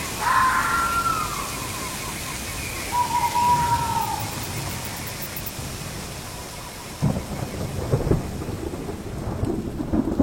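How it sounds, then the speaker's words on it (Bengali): An owl hoots from a distant forest on a rainy night, a few faint tonal calls early on over steady rain, with thunder rumbling louder toward the end. "জঙ্গলের দূর থেকে ভেসে আসছে প্যাঁচার ডাক"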